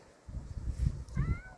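A cat gives a short, clear meow with a rising, wavering tone over faint low background rumble outdoors on a rainy day.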